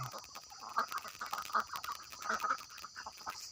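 Faint, distant quacking and clucking from a group of ducks carries over a steady high-pitched background hum, with no one talking.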